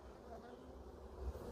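A dense swarm of honey bees packed together, giving a low, steady buzzing hum that stays fairly faint and continuous, with a little background noise underneath.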